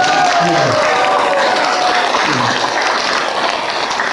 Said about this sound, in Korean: 더 큰 박수 한번 드려주세요